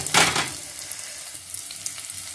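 Onions and green chillies sautéing in a pan with curry leaves, a close, steady sizzle with a brief louder burst of frying near the start, no voices.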